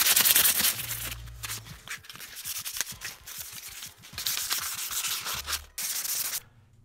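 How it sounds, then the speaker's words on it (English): A tool wrench is hand-sanded to prepare it for powder coating, a continuous gritty rasping rubbed in quick back-and-forth strokes, loud and close, with brief pauses before it stops abruptly. "just sand this up"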